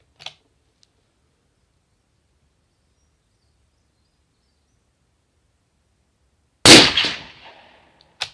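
A suppressed rifle fires a single sharp shot with a short decaying tail, isolated in near silence apart from a couple of faint clicks.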